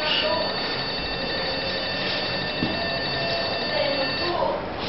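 Gigabyte GA-G41MT-S2PT motherboard sounding a steady, continuous high electronic error tone with faint background hum, with no clear separate beeps.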